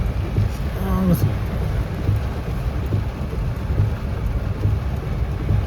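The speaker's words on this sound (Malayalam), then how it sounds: "ഫുൾ ബ്ലോക്ക് അമ്മാരി മഴയാണ്" Heavy rain pours in a dense, constant roar, with a brief faint voice early on and a low rumble underneath.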